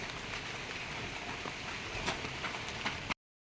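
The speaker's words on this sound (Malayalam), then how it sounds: "ഇവിടെ നല്ല മഴയാണ്, നല്ല അടിപൊളി മഴ പെയ്തുകൊണ്ടിരിക്കുകയാണ്" Heavy rain falling around a house, a dense continuous patter with scattered sharper drops on hard surfaces, steady and fairly close, cutting off abruptly near the end.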